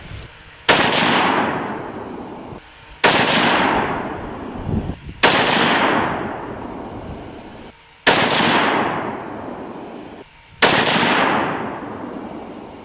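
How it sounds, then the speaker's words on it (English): Five sharp, loud rifle shots from a .22-250 firing ballistic tip varmint handloads, evenly spaced a couple of seconds apart outdoors, each with a long fading echo. "So the next ones we're going to shoot are some more ballistic tip varmints."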